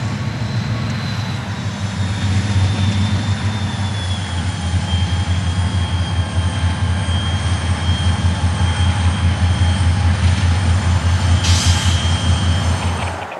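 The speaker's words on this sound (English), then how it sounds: "a grain train comes in off the Birmingham side" A CSX grain train arrives off the Birmingham side, a steady loud rumble of locomotive and rolling cars with a low engine drone, wheel noise and a faint high squeal, continuous for the whole stretch.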